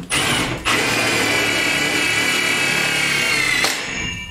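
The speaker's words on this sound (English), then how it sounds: "start drilling through the wood" A power drill whines steadily as it bores through wood inside a Chevy Express 3500 van, loud and close, starting abruptly and winding down after a few seconds.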